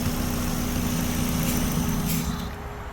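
A Mazda Miata engine idles loudly and unevenly with a steady low rumble, with vacuum applied to the EGR port, then drops off near the end as it stalls.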